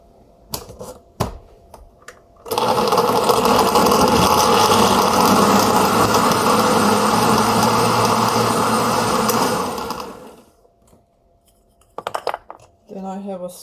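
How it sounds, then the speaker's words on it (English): A blender purees whole cooked tomatoes for canning sauce, a loud, steady whir running for about eight seconds before spinning down, with clicks and handling noises before and after. "Blend the whole tomatoes down."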